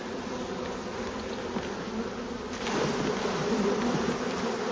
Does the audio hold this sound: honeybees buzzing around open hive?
yes